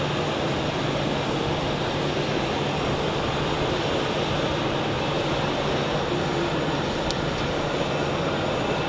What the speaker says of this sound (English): This A320 is flying to Kos in Greece.